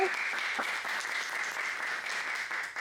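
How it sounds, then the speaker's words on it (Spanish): Steady applause from a political event audience, a dense wash of clapping that holds for nearly three seconds without talk. "Un aplauso, por favor."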